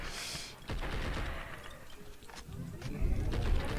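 Rapid gunfire rattles through a zombie pig farm shootout in Blood and Bacon, a steady, fairly faint stream of shots with gritty background noise and no clear pauses.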